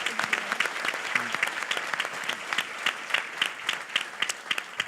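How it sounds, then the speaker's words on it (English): Applause from an audience at a restaurant-industry panel breakfast event, steady dense clapping through the whole stretch with sharper individual claps standing out, fairly close and moderately loud. "if we could please have a round of applause for our panel"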